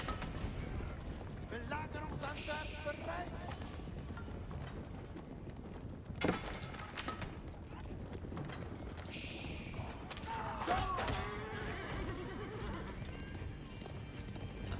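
Galloping hooves and occasional whinnies from horse archers' mounts in a real-time strategy game, steady and mid-distance, mixed with battle clatter and sharp impact sounds under continuous talking.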